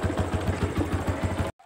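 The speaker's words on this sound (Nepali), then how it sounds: "फाइनली लु अब हामी टक्कै बाइकमा चढ्यौँ र हामी बाइक चालु गर्छौँ" A motorcycle engine runs at a steady idle right after starting, close and fairly loud, with a regular low pulsing throb that cuts off abruptly near the end.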